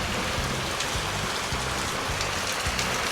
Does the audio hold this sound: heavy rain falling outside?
yes